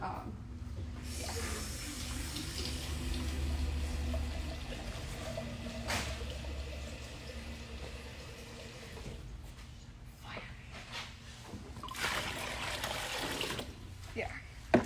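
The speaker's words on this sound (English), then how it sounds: "go ahead and add the other half of your cool water" Cool water is poured into a homemade dark vanilla cream soda mixture, producing a steady splashing stream that runs through most of the clip and swells again near the end.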